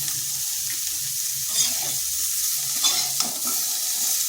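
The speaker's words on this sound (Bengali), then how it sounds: "তাই আলাদা করে ভেজে নিচ্ছি।" Cauliflower pieces fry in hot oil in a pan, giving a constant close sizzle with a few louder crackles and stirring scrapes, no voices.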